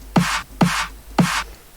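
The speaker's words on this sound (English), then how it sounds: "just extract the tone, it sounds like this" Three quick, evenly spaced snare drum hits with the noise removed, leaving only the tonal part: a short pitched thump and a brief ringing body, each decaying fast and sounding dry and close.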